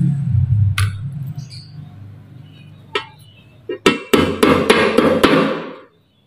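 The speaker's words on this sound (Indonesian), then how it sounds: "kemudian dilubangi bagian atasnya sini, dilubangi besar-besar gini ya." A used tin can is punched open on top with a series of sharp metallic impacts. A few isolated knocks come first, then a quick run of five or six loud clanking strikes, heard near and alone.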